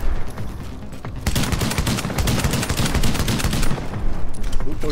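Rapid video-game gunfire from an online shooter, a dense burst of overlapping shots and automatic bursts that starts after a second and keeps up loudly and continuously to the end.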